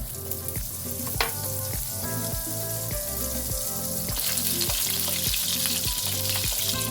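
Butter melts and sizzles in a hot pan for carbonara, producing a loud, continuous crackling fry that holds steady throughout without any talk.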